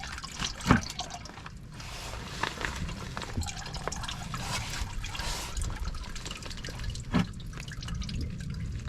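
Motor oil drips and trickles from a removed oil filter into a drain bucket, giving soft irregular patters and splashes up close with a couple of louder drops, fairly quiet overall.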